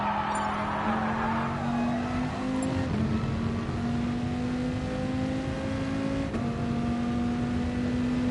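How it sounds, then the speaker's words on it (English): Dodge Viper engine in a racing video game revving hard, a loud steady whine climbing through gears with shifts, continuous throughout with no talk. "You can really rev out this Viper."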